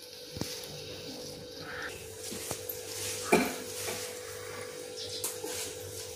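Ambadi greens, picked and washed, go into a cooking pot with a few light clinks and soft rustling handling sounds of dishes and utensils, moderately close with a steady background hum and no talk.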